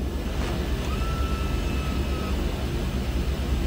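A DHC-6-300 Twin Otter taxiing to parking in a flight simulator, producing a steady, close turboprop drone with a faint thin whine riding on top.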